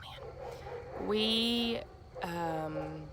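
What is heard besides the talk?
dogs barking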